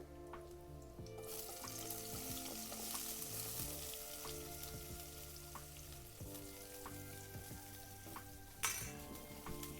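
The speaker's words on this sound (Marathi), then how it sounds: "कांदा पण चांगला परतून घ्यायचा लालसर होईपर्यंत" Chopped onion frying in a pan with garlic sizzles continuously and close up, with faint tonal hum underneath and a single sharp clatter near the end.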